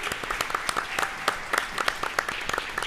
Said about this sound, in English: let's get a round of applause for our amazing panelists who are here today